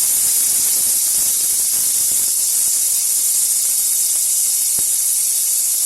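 Small pieces of roughly chopped ginger sizzle in a hot pan over a medium flame, a steady, loud, close hiss that continues unbroken throughout.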